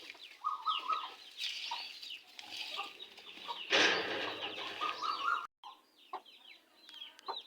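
A golden hen clucks softly in a yard with other fowl, quiet repeated clucks and chirps over a low outdoor background, with a brief flutter or rustle midway.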